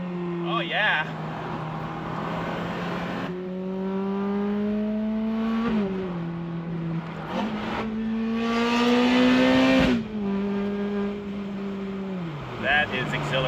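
A 2006 Ferrari F430 Spider accelerates hard, its engine note climbing in pitch through each gear before dropping abruptly at several sharp upshifts, loud and close over a steady road rush.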